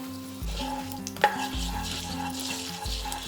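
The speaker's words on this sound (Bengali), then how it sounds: "তেল হালকা গরম হতেই এখানে দিয়ে দিচ্ছি সামান্য একটু মেথি দানা, আর দিয়ে দিচ্ছি একটা তেজপাতা।" Fenugreek seeds and a bay leaf fry in warm mustard oil, giving a soft, steady sizzle with a few stirring scrapes and one sharp clink, close by.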